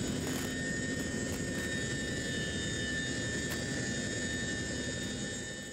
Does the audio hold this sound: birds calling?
no